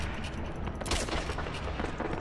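Dense, continuous gunfire from enemy soldiers in the video game Sniper Elite V2, a steady rapid crackle of shots that holds at a loud level throughout, with a sharper burst near the middle.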